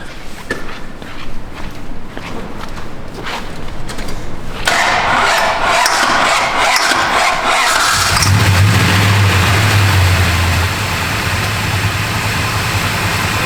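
A 1970 Dodge Super Bee's engine cranks, catches and runs loud and close, with rough rumbling revs rising into a sustained roaring idle.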